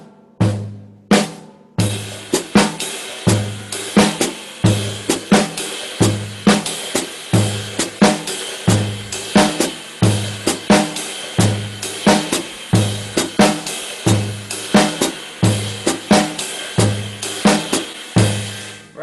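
Drum kit played alone in a steady groove, cymbal or hand strokes alternating with bass drum kicks in quarter-note triplets, each hit crisp and evenly spaced over about nineteen seconds.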